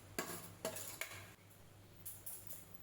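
A mustard mango pickle mixture stirred in a pot, with a few distinct clinks and scrapes of a spoon against the vessel over a faint background hiss.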